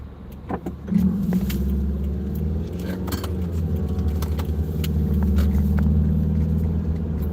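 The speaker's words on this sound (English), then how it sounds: "Box truck." A box truck drives along the road, its engine giving a steady low rumble that holds throughout, with a few faint rattles and jingling clicks on top.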